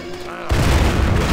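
A destroyer unit in Civilization V opens fire on a Renaissance-era cannon unit: a sudden heavy booming burst of gunfire that cuts in after a brief quiet lead-in and rumbles on loudly to the end.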